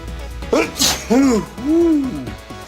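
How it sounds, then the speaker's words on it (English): A single exaggerated sneeze bursts out sharply between voiced, drawn-out vocal sounds, close and loud. "And now, a rare gift, a Foley sneeze."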